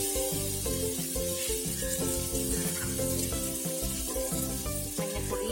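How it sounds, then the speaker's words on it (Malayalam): Onions and tomato sautéing in a pan for a spicy prawn roast, a loud continuous sizzle with faint stirring scrapes, steady throughout. "ഉള്ളിയൊക്കെ വഴന്നും തോന്നുന്നു."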